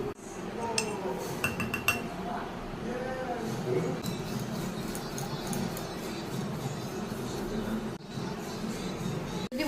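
Suji (semolina) batter mixed with tempered oil, curry leaves and mustard seeds in a bowl, giving steady close scraping and stirring with light clinks of a utensil against the bowl throughout.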